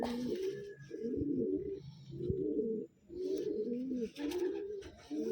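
Taiwan pigeons coo in a low repeated rolling rhythm, several phrases close by with short pauses between them, over faint background noise.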